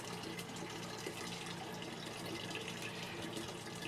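Water running steadily from a faucet fed by a utility pump used for water transfer, a continuous broadband rush with no talk over it.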